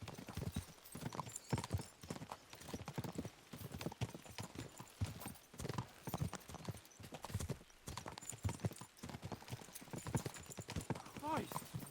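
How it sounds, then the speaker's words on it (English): Horses gallop at a steady clip-clop in a medieval setting of Kingdom Come Deliverance 2, the hoofbeats continuous and fairly close, with characters talking over them and an occasional whinny. "We should spur the horses on."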